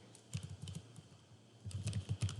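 Close, quiet typing of code on a computer keyboard, two bursts of rapid key clicks separated by a short pause, with no talking.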